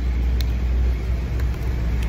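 Cars and trucks pass along a busy main road, a constant low rumble of traffic heard from nearby without pause.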